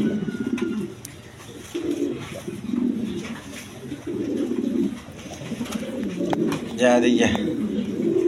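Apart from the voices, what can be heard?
pigeons cooing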